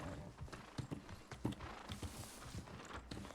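Quiet, rhythmic clip-clop of horse hooves at a walking pace, steady and close, with no voices, in the video game New World.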